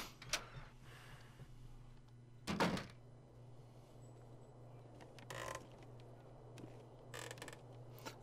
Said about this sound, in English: Stop with the squeaking.